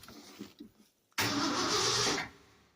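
A 1972 Ford F250 highboy pickup cranks in a few short uneven bursts, pauses briefly, then catches and fires with a loud sudden roar that holds for about a second before settling to a quieter idle.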